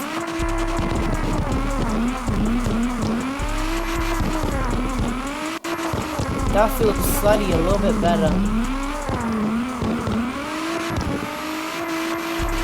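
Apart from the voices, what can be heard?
Nissan R32 engine revving and drifting in CarX Drift Racing video game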